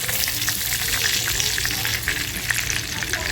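Prawns frying in hot oil for a Chinese-style chilli garlic dish give a loud, dense, crackling sizzle that stays close and continuous throughout.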